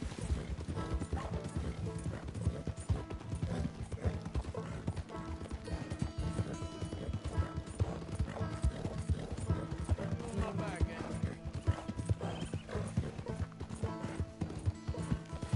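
Rapid hoofbeats of a galloping horse in the video game Red Dead Redemption clatter continuously under game music and talking voices.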